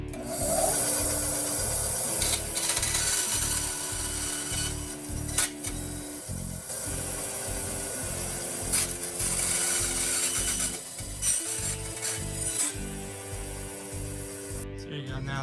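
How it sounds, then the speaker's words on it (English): A bandsaw cuts through soft copper in a workshop, giving a continuous gritty rasping whine with a steady pulsing rhythm and short breaks as the cut shifts, close and loud with no voices. "Now we're going to cut the copper out with my bandsaw."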